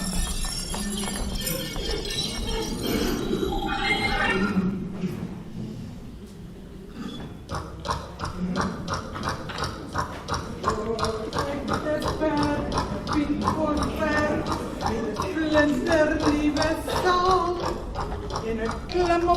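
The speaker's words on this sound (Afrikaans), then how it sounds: "En ek klim op my perd, die Pinkfosberg, en ek kom om jou te haal." Horse hooves clip-clopping at a women's concert performance, a steady rhythmic clatter running under talk and music for most of the stretch.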